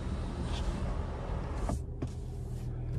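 Inside a 2024 Cadillac CT5-V, the power sunshade closes with a faint, steady electric motor whir under quiet cabin hum, ending in a couple of soft clicks.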